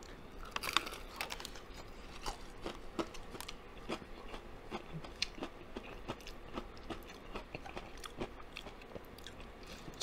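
Crunchy fried chicken is bitten and chewed up close, giving a long series of sharp, crisp crackling crunches in an uneven rhythm against a quiet background.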